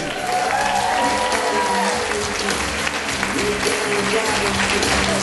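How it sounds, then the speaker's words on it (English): Wedding guests at a Zukas Hilltop reception give loud, sustained applause for the groom's parents as they are introduced, a dense, steady wash of clapping with crowd voices mixed in. "Please put your hands together"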